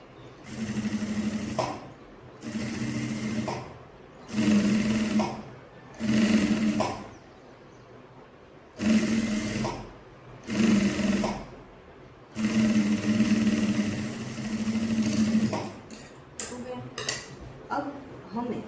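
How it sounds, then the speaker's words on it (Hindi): A sewing machine runs edge stitching along a strip on a designer side-dori kurti in repeated loud bursts separated by short pauses, each burst a close whirring hum with faint clinks between. "तो इस पे भी हमें यहाँ पे पट्टी के ऊपर धार सिलाई लगानी है।"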